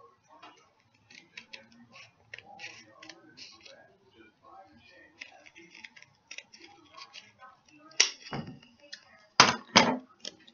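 Scissors cutting out paper daisies, a run of quick, soft snips, some faint and some sharper and louder near the end, with pauses between them and no talk.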